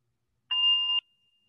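A meditation bell is struck once during a group practice session, giving a clear sustained metallic tone with bright overtones that rings for about half a second and then fades to a faint lingering hum, heard alone.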